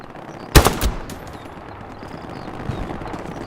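Gunfire in the World War II shooter Hell Let Loose: a sharp close burst of two or three loud shots, then ringing quiet with faint distant pops.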